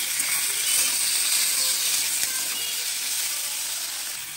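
Chicken curry with cashews and tomato sizzles loudly in an uncovered pan as it is stirred, a dense, steady hiss with faint scraping and a slow fade near the end.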